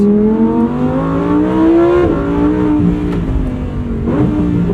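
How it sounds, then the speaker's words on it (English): A red Lamborghini with a 631-horsepower engine and a seven-speed dual-clutch gearbox revs up in sport mode, its loud, close engine note climbing and then dropping sharply at each quick gear shift, with no talking. "The shifts from the 7-speed dual clutch are very smooth, especially in sport mode"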